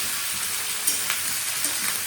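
A vegetable curry fries in a pan at home, giving a soft, steady sizzle with a few faint crackles and no voices.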